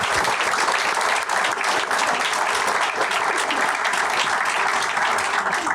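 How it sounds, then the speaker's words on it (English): An audience claps steadily for the panelists at a mental health awareness event. The applause is dense and sustained throughout, loud and continuous with no talking over it. "So can we get a round of applause for our panelists"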